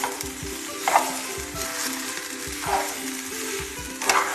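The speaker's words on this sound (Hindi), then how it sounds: "अब हम इसके अंदर डाल रहे हैं अपनी ये फ्राई की हुई भिंडी और इसको अच्छे से मिक्स कर लेंगे।" Fried okra being stirred into sizzling masala in a pan: continuous hiss of frying with repeated scraping strokes of a spoon against the pan at a steady rhythm, close and clear.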